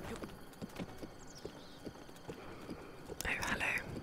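Rapid clip-clop hoofbeats of a horse approach in Breath of the Wild, growing nearer across the stretch, with soft whispering over them and a brief neigh-like sound near the end.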